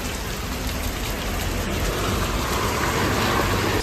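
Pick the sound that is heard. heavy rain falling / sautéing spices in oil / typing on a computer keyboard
heavy rain falling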